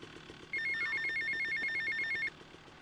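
A payphone rings in the game GTA Vice City, a steady electronic trill that repeats in quick pulses for almost two seconds and then stops, clear and close over a quiet background.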